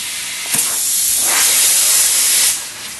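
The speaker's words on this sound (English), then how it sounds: "So we'll put a little air in it now" Compressed air hisses steadily into a liner tire to seat the bead, a loud continuous rush with a brief pop near the start and a tapering finish.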